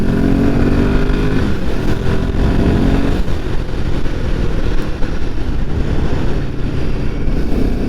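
A Royal Enfield Himalayan 450 motorcycle is ridden off-road. A loud, steady engine drone mixes with heavy wind rush across the microphone, and the noise stays continuous the whole time.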